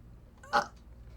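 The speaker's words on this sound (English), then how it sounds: "you should let out the loudest belch you can" A single loud belch let out on command, short and abrupt, rising clearly above a quiet room background with no talk over it.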